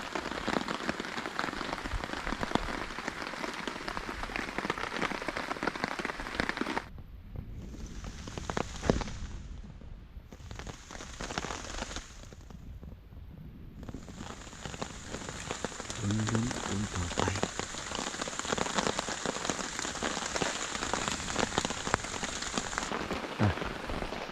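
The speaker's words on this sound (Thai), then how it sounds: "พอลมผ่านไปฝนก็เริ่มลงแล้ว" Heavy rain after strong overnight wind drums on a surface at a hammock campsite at Pha Nang Dam, reached on a Honda CT125, a dense steady patter that drops out in two brief gaps partway through and then resumes just as loud.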